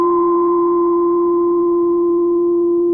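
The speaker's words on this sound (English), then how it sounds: "if we just hold this down, we can hear that resonating filter, which would normally just be a sine wave, but because we have that noise bumping into it" A synthesizer's resonating filter on a held note rings as a near-pure steady tone, its resonance slightly wavering as noise modulates it, sustained and alone for about three seconds.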